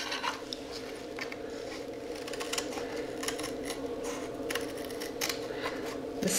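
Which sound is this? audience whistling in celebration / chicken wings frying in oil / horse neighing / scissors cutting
scissors cutting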